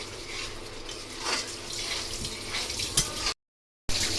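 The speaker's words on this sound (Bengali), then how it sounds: "খাসির মাথাগুলো ভালো করে ধুয়ে নিছি" Tap water runs steadily into a sink while goat heads are rinsed clean, a continuous splashing wash with a brief gap near the end.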